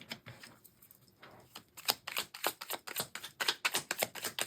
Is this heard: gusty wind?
no